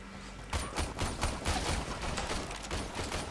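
Rapid gunfire rattles in a Warframe video game match, with dense overlapping bursts of shots aimed at the player. The shots come continuously and loudly over a low rumble.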